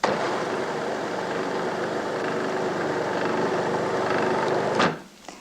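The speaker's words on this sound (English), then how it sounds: "And I have a processor, so it should make light work of it." A food processor purees watercress soup ingredients with a steady, loud whirring motor drone that runs without a break for nearly five seconds, then cuts off abruptly with a brief clunk.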